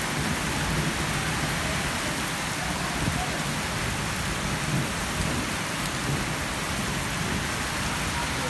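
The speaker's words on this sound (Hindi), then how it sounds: "बारिश बड़ी तेज लत्ती दी है।" Heavy rain pours in a continuous loud hiss on an outdoor spot where goats are kept, with dense drumming on surfaces and a low rumble.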